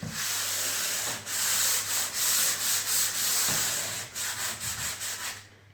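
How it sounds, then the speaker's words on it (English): Hand sanding a plaster surface with 120 grit sandpaper on a plaster sander: steady, close, rhythmic back-and-forth rasping strokes with brief pauses between passes, no talking. "let's go over it first with 120 grit sandpaper and plaster sander"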